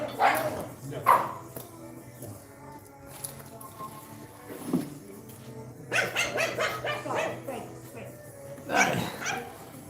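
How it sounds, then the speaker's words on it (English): A house dog barks repeatedly in short bursts, some close together, under ongoing talk and background music during a home workout livestream. "Sorry, my dog over here."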